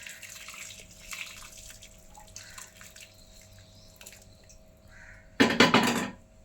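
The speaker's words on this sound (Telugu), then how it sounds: "మనం ఈ బెల్లం వాటర్ దీంట్లో కలిపేసుకోవాలి" Jaggery water is poured into a payasam mixture: quiet faint trickles and clinks first, then a short, loud splashing pour near the end.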